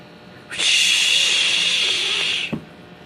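A loud, steady burst of hissing spray from a fire hose lasting about two seconds, starting abruptly and cutting off with a brief thump.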